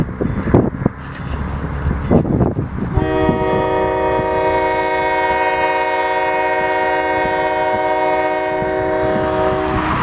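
An Ohio Central freight train passes near Byesville, Ohio, on the old B&O line, with a loud, sustained multi-tone horn blast that starts a few seconds in and holds steady to the end over rumbling rail noise.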